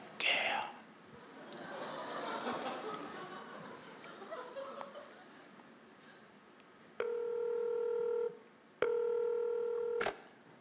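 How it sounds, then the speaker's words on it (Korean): Telephone keypad tones beep in two long steady bursts near the end, after quiet murmuring, whispering and brief laughter from people nearby. "전화해볼게요."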